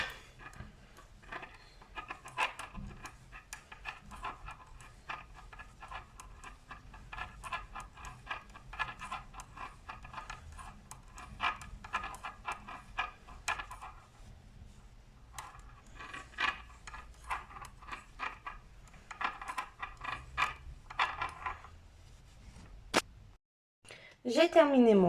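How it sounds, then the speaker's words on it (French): Knitting needles work a purl row on a women's V-neck sweater, giving soft, steady clicking and rubbing that runs almost continuously, pauses briefly, then returns with a sharper burst of activity near the end. "je vais tricoter tout mon rang à l'envers"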